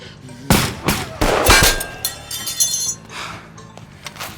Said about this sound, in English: Multiple shots, one hit.